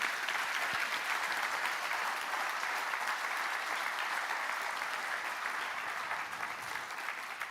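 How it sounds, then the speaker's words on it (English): Steady, dense applause from a lecture audience fills the room, a continuous even wash of clapping with no voices over it. "We always have to clap for the ones who do all the work."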